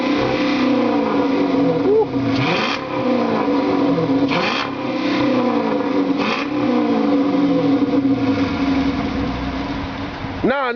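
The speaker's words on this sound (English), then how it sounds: "can we hit the gas one time so they know it's a Hemi?" A Hemi V8 in a Dodge Charger idles roughly and then is revved, a deep loud engine note rising and falling near the microphone while people talk over it.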